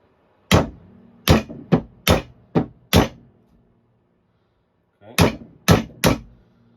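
Sharp hammer blows on wood, a quick burst of six strikes, a pause, then three more, loud and close with no talking.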